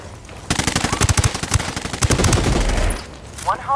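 Automatic gunfire from a squad firefight in the video game Ghost Recon Wildlands Ghost War, rapid loud bursts running for a few seconds before cutting off, with a short voice call afterward.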